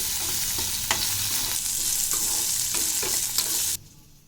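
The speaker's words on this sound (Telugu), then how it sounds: "అదే నూనెలో మనం అల్లం ముక్క వేసుకుందాం ఇవి కూడా బాగా వేపుకోవాలండి" Pieces of ginger fry and sizzle in hot oil with steady crackling and a few stirring scrapes, close and continuous, before the sound cuts off abruptly near the end.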